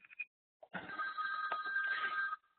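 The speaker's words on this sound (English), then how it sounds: "sorry, my phone's going off typically" Mobile phone rings with a steady electronic trill lasting about two seconds after a few short chirps, fairly faint and indoors, with no talk over it.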